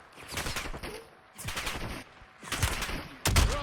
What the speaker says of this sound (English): Oh, someone else just shot him.